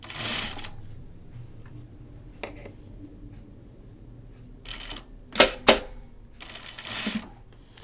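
A home sewing machine stitches a dress in short whirring bursts, with a few sharp mechanical clicks and pauses between runs, close and alone.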